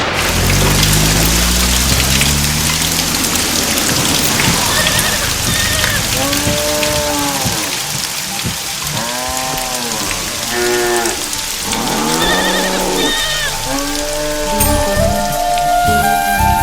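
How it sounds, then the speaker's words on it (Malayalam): Heavy rain pours down steadily in a Malayalam film scene, a dense constant hiss throughout with music playing over the downpour. "മഴ വരാൻ പോണ്ടല്ലോ, ഇനിയിപ്പോ എന്താ ചെയ്യാ?"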